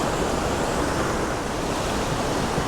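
A waterfall on Tokul Creek, Washington roars in a dense, unbroken rush of falling water, loud and close, holding a steady level from start to finish with no voices over it.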